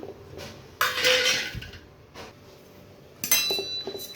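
A metal kadai is handled in a home kitchen as onions go in, bringing a couple of sharp clanks and scraping metallic clatter separated by quieter gaps, close and fairly loud, with no voices.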